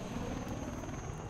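A video game helicopter's rotor produces a continuous, loud, even drone with fast chopping blades. It holds steady throughout, with no talk over it.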